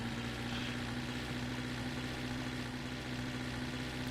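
A car engine in a driving video game runs at a steady drone, with a constant low hum and no change in pitch, heard alone and fairly quiet.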